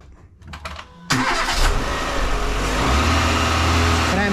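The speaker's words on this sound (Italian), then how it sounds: "Procediamo e andiamo ad accendere il motore." A Renault Clio's engine cranks and catches after a short quiet lead-in, then settles into a steady, loud idle that runs close by until the end, with no voices over it.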